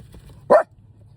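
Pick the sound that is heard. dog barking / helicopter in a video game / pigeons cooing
dog barking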